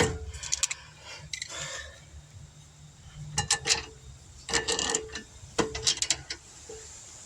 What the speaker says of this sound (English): And then we'll tighten it all the way up.